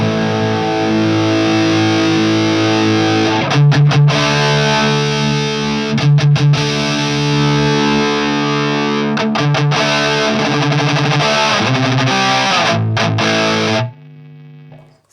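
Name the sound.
guitar through Peavey Triple XXX amp, high gain, EQ maxed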